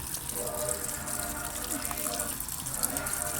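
Water gushes steadily into the drum of a fully automatic washing machine run in semi-automatic mode, a continuous hissing fill at moderate level with no other sound on top.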